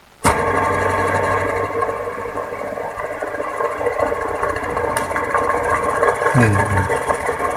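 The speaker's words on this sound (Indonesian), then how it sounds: "Ini ciri khas Bedini motor, putarannya saat kita start dia lambat, makin lama makin cepat dan makin cepat" A Bedini pulse motor driven by seven transistors hums steadily after a sharp start, a constant whirring drone with a faint click midway and a low thump near the end.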